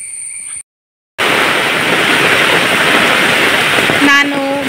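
Heavy rain pours down in a dense, steady roar, loud and close, after a brief cut of silence near the start; a short tonal sound breaks in near the end.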